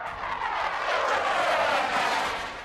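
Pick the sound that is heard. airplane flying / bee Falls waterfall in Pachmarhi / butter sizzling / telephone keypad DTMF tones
airplane flying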